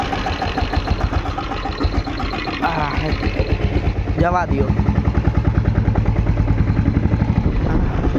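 A Royal Enfield Bullet motorcycle's engine idles steadily and close by, its even thumping pulse running throughout while someone speaks briefly over it.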